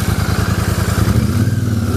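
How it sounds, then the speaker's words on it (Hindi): Parallel-twin motorcycle engine running close by, a rapid, even, throbbing exhaust pulse with a slight rise in revs partway through. "सबसे पहले बाइक का आवाज़ सुन लो। तो पैरेलल ट्विन इंजन की बात ही यही है"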